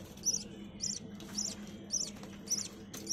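Budgerigars, a yellow pair and their newly hatched chick, give short high chirps in regular repeated bursts about every half second over a soft background murmur, close by and with no talking.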